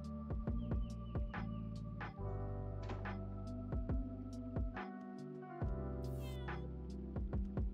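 A cat meows in a video game, several short mewing calls scattered over steady game music with tonal notes and a low hum underneath.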